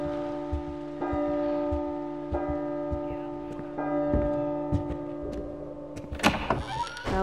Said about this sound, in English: just stand here until the chimes come and it turns 12 o'clock